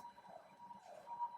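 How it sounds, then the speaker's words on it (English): A faint, distant siren wails steadily in the background in India during the COVID crisis, a thin sustained tone drifting slightly in pitch, with no one speaking. "sirens."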